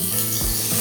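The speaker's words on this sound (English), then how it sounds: "hear that sizzle? That's the bacon in the hot pan" Seasoned bacon sizzling in a hot pan on a stove, a brief steady crackling hiss with a soft scraping rub partway through, close and alone.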